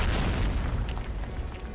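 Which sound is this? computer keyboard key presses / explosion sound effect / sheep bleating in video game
explosion sound effect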